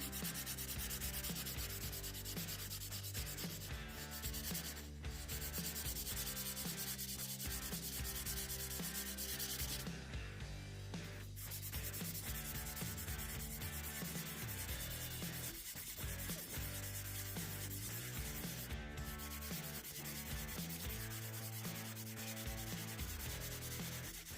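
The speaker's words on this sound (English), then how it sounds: "Now that the bolt's completely clean, we're going to sand with some 600 grit." Steady, continuous rubbing of 600-grit sandpaper on a cleaned TEC-9 steel bolt, a dense scratchy hiss that runs without pause, close and fairly loud, with no talking.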